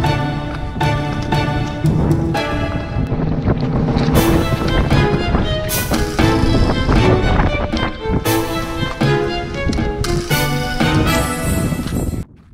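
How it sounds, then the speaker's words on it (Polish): Strong wind blasts across the microphone outdoors in a snowy area, producing a loud, continuous roar with gusty bursts and buffeting throughout. "Może trochę wieje"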